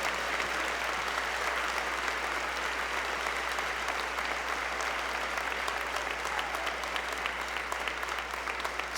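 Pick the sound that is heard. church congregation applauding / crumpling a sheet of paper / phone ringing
church congregation applauding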